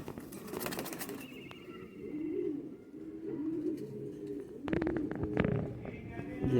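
A rooftop Kabuli high-flyer pigeon coos in low repeated throaty rolls, close by, with soft rustling and wing movement and a voice talking over parts of it.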